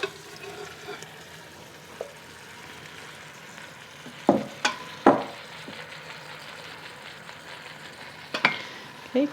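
Beef and its bowl juices tipped back into an Instant Pot after sauté mode is switched off, for Vietnamese beef stew: a quiet low hiss broken by several sharp wet thuds and scrapes of meat and spoon against the pot.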